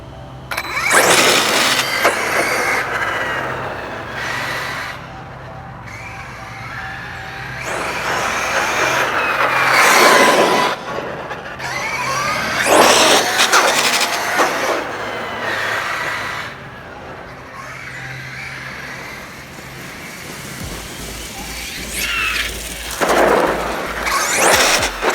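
Losi 1/8 LST 3XL-E electric RC truck on a first run with MaxAmps batteries, its motor whining in loud repeated bursts as it speeds past and pulls wheelies, with brief quieter gaps between runs.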